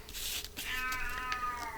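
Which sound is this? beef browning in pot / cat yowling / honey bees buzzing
cat yowling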